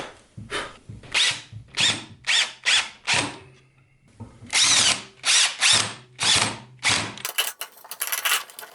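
A power drill drives 1 1/4 inch construction screws into wood, heard close up as roughly nine loud whirring bursts with short pauses between them and a ratcheting edge, then a brighter final burst.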